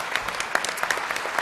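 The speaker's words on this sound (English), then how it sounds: "give our champions another round of applause" An audience at an awards event claps for the champions, a short burst of steady, moderately loud applause from a crowd.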